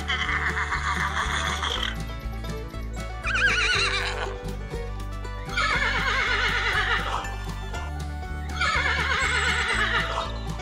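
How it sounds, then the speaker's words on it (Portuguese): A horse neighs four times, long shrill whinnies separated by short pauses, over a looping, rhythmic musical backing. "E olha só o som do cavalo"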